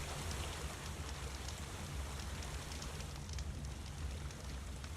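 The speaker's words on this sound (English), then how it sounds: "Maybe there's a little bit of a stream running nearby." A small stream runs nearby, a continuous soft rushing and trickling wash that stays even and hushed throughout, close to the sound of steady rain.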